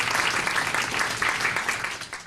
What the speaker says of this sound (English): we all want to give them a round of applause,